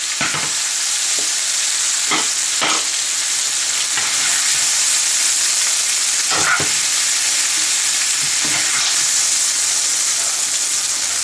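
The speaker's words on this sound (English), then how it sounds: "Now I'm going to take my peppers and onions." Peppers and onions for pork fajitas fry loudly in a pan: a dense, constant sizzle close by, with several short scraping stirs breaking through at irregular intervals.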